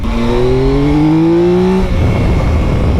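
A Yamaha Tracer 9 GT motorcycle exhaust roars loud and close, its engine note rising steadily as it revs, then dropping into a rough, rumbling burble.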